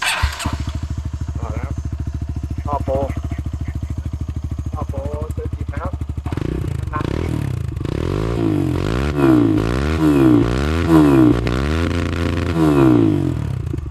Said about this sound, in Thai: ตัวนี้ฟังเสียงท่อจากหนึ่งในตำนานกันนะครับ